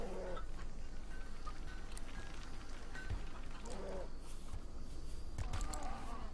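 Chickens fed on hay in the RimWorld video game make soft, scattered clucks against a steady game background, several short calls spread across the stretch, fairly faint.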